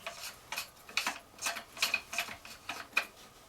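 A paintball gun barrel being screwed into the body makes a run of small, regular clicking and ratcheting ticks, roughly two per second, faint and close with no voices.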